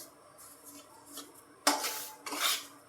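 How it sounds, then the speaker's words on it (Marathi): Semolina (rava) being dry-roasted in a pan for karanji, heard as quiet scraping, then two louder bursts of a spatula or spoon stirring and rubbing against the metal pan. "आता हा रवा आलाय आपला भाजत"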